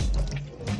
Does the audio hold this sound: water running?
yes